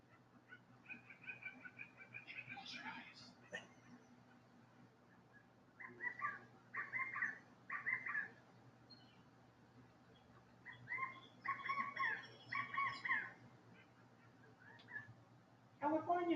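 Birds call in California chaparral on a played-back field recording: short bursts of chirps and whistled phrases come and go against a quiet background, with faint talk underneath at times.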